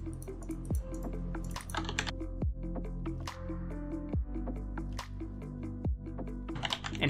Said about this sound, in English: I'm holding Alt the entire time on my keyboard.